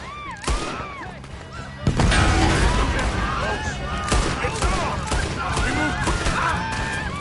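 Gunfire erupting during a camp shootout in Red Dead, with sharp close shots and a sustained volley amid shouting voices and chaotic commotion.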